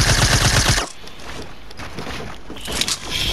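A loud, fast burst of automatic gunfire in Fortnite opens the moment, then cuts off, leaving quieter scattered game sounds and a few distant pops.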